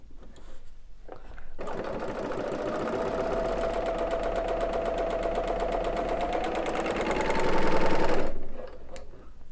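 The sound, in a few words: serger sewing fabric pieces together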